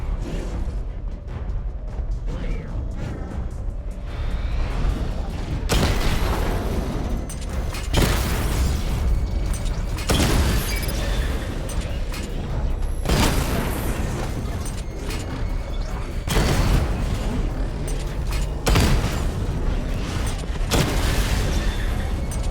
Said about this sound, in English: Charge up missile barrage to level 2 and destroy 4 active targets to complete diagnostic test.